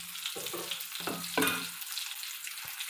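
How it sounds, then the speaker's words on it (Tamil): Murrel fish frying in a pan, a steady broadband sizzle throughout with intermittent scraping and stirring knocks of a utensil in the pan, close and moderately loud, no talking. "மீனெல்லாம் போட்டு நல்லா வெந்துட்டுருக்கு."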